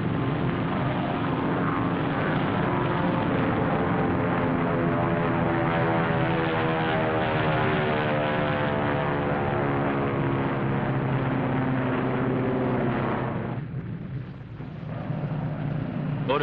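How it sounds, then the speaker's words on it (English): Propeller-driven photographic planes flying over the target fleet after the 1946 Bikini atomic test, a steady loud engine drone that holds throughout and briefly dips near the end, with no talking. "Photographic planes return from Bikini and land on their floating bases at sea."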